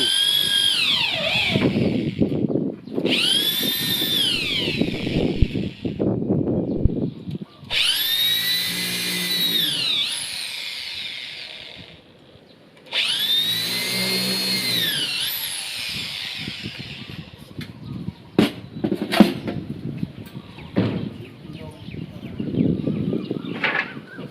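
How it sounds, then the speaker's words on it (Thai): A power drill whines up and winds down in several long bursts as it bores pilot holes into wood, with clattering handling noises between runs. "ครับเจาะเสร็จแล้วก็ตอกตะปูเข้าไปครับ"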